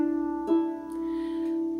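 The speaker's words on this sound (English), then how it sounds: "A major second will sound like this." A single plucked guitar dyad forming a major second interval rings out with a soft attack, two close notes sustaining steadily and slowly fading over about two seconds.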